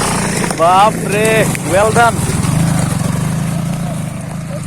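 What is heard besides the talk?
motorcycle engine riding up a hill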